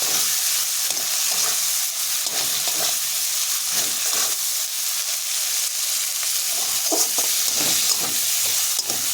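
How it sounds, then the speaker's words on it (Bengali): Fried pointed gourd pieces are stirred in a frying pan, giving a continuous hissing sizzle broken by repeated scraping and stirring strokes at an uneven rhythm, close up and with no talking. "ভাজা কাঁকরোলগুলো দিয়ে দিলাম। দিয়ে আমি আবারও একটু ভালো করে নাড়াচাড়া করে নেব।"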